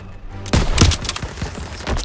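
Rapid bursts of close, loud gunfire crackle in a Call of Duty: WWII battle, with repeated sharp shots in quick succession over a constant combat din.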